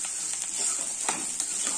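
An onion curry sizzles steadily in a pan while a spoon stirs it, giving a few soft scraping strokes over the continuous close frying hiss.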